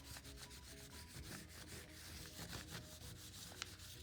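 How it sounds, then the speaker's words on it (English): Crayon or pencil rubbed back and forth over leaves laid under paper, prepared for a watercolor resist, giving a steady, close scratchy rubbing texture that carries on throughout with no talking. "Now we can see a rubbing of our leaves."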